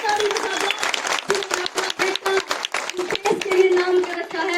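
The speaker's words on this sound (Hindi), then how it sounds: "माता जी के लिए एक बार जोरदार ताली बजा दो" Audience applause honoring an elderly mother at a village gathering where soldiers and teachers present gifts to women, sustained rhythmic clapping from a crowd with a voice speaking over it.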